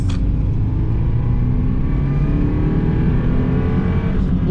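A turbocharged Subaru car accelerates hard, its engine a loud, steady roar that builds continuously throughout, heard from inside the car.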